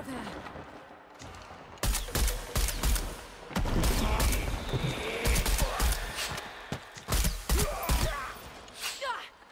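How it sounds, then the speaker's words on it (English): Gunfire in the 2018 video game Shadow of the Tomb Raider comes as a series of sharp, loud shots in irregular bursts over rumbling in-game background noise. "you can take an entire shotgun, but I shoot you once in the face with my pistol and you're dead"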